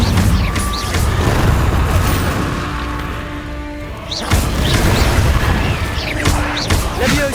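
An Incendio fire spell is cast in Hogwarts Legacy, a loud, dense whooshing and crackling blast that roars continuously, dips briefly, then surges again with fresh bursts, close and full.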